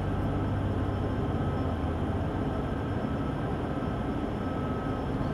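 A heavy freight train rolls steadily through Sherman Hill in Train Sim World 2, a continuous low rumble and drone of engine and wheels with no voices over it.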